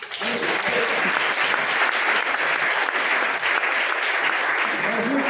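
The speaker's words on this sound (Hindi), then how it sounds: "संजीव जी हैं, इसके लिए ताली हो जाएगी।" A university audience in Kolkata breaks into applause for Sanjeev, a thick, continuous wash of clapping from a large crowd, loud and unbroken from start to finish.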